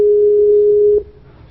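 An outgoing phone call rings while waiting for an answer, a single steady electronic tone held for about a second before cutting off abruptly into quiet line noise.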